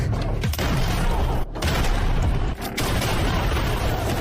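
A Rambo action film scene fills with a loud shotgun blast and sustained gunfire, a dense wall of booming shots with brief dips.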